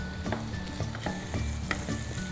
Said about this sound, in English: Next go in the capsicum. And let's just cook all of this on a high heat.